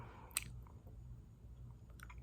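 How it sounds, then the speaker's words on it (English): Gum being chewed close to the mic, with soft, wet, irregular smacks and squishes. A sharper click comes near the start and another near the end, over a quiet room with no speech. "now I'm chewing gum"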